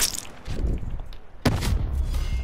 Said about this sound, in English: Oh, it was a frag grenade